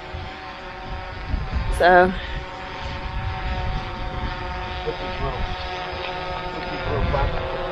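Buzzing hum of a small flying drone near a 2020 Grand Design Transcend Xplor 260RB RV, a steady tonal whine running throughout with a brief louder burst, while a person speaks over it.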